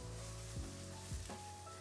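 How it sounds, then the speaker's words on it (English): Eggplant slices frying in a pan give a soft continuous sizzle, quiet and steady, with a few faint clinks or scrapes from the pan and no talking. "we'll turn the eggplant over, see how it's frying up"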